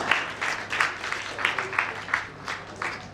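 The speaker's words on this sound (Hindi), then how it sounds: "आते ही पहले आपने ताली बजाना है और जाते फिर ताली बजाना है।" Audience clapping at a Vedic conference as a guest comes up to receive a certificate, a modest scattering of hand claps in uneven bursts, moderately quiet and fairly close.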